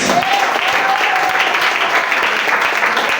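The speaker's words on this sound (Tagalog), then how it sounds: "Hallelujah, palakpak para sa Diyos." A church congregation bursts into loud, dense applause for God, a continuous roar of many hands clapping at once, close and full throughout, with faint voices mixed in.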